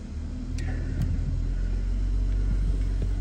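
A 2015 Mercedes E400 AMG sits running at idle after a push-button start, a steady low rumble that stays even and close throughout, with a couple of faint clicks near the start and no talking.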